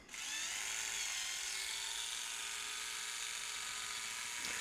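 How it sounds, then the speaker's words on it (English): A small battery-operated Tamiya plastic hobby drill whirs steadily, boring a hole back out of a plastic miniature, a continuous high-pitched motor whine held close and at even loudness throughout. "I gotta get my little drill to drill the hole back out."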